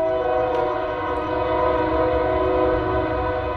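A train passes at night while its horn sounds, a loud, sustained chord held steady over heavy rumbling rail noise, close by and with no voices.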